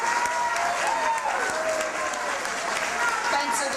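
An audience breaks into steady applause at a talk in Boston, a dense even patter of many hands clapping throughout, moderately near and sustained without pause.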